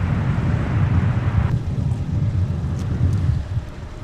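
Gusty wind at Minneapolis–St. Paul airport on a snowy day, gusting to 28 knots, buffets the microphone with a loud, steady low roar that eases slightly near the end.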